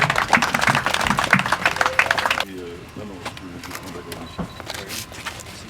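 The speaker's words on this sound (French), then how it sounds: "Nous pouvons encourager les directeurs provinciaux avec l'applaudissement." Audience applauding provincial directors at a DGDA ceremony, a loud burst of clapping that cuts off abruptly midway, followed by quieter room sound and murmuring voices.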